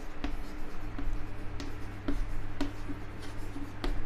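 Pencil drawing a scale on a drawing sheet, a steady scratchy stroke with sharp ticks roughly every half second, close and clear with no talking.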